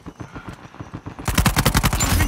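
Rapid automatic gunfire from an Uncharted 4 multiplayer match, loud bursts of repeated shots that start abruptly after a quieter stretch of rhythmic clatter and keep going to the end.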